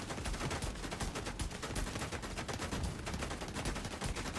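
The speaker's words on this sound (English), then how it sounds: "I'm getting shot in like 50 different directions." Turret gunfire in the video game The Division 2 rattles in dense, rapid volleys, a continuous barrage of sharp shots from many directions with no pauses.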